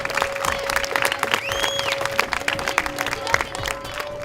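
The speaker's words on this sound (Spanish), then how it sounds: "Un aplauso, que es nuestro regalo." A small group, likely children with their teacher at a school reading event in Uruguay, gives a short round of clapping, steady and close, with a faint tone running beneath.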